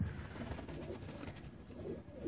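A teddy-type pigeon with a closed tail gives soft, low cooing, faint and close, repeated in gentle murmurs over a couple of seconds.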